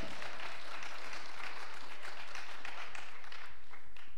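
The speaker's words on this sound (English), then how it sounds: "Clap your hands." Wedding guests clapping hands at a ceremony after the couple's vows, a steady wash of applause from a gathered crowd, continuous and moderately loud with no voices over it.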